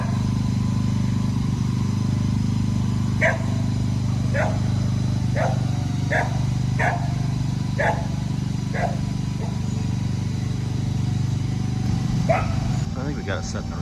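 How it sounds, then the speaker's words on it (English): Dogs barking in a steady series of sharp, evenly spaced barks at a garage build site, heard somewhat distant under a constant low engine rumble. "You get to listen to my dogs bark."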